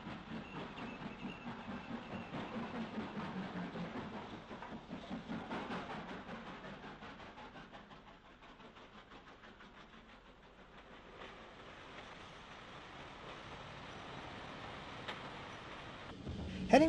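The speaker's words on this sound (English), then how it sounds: "Number 104 is seen again, this time leaving Derry with the 8:05 p.m. goods for Belfast on the 25th of July" GNR 0-6-0 steam locomotive No. 104 hauls a goods train out of Derry, heard from a distance as a faint, steady rhythmic chuffing and rolling rumble that fades and then swells slightly.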